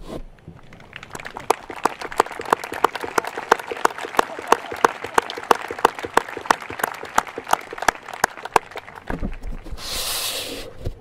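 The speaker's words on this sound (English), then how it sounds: "please rise so our seniors can give you a round of applause." Steady applause from a crowd at a high school graduation, many hands clapping with sharp peaks throughout, then a brief burst of hissy noise near the end.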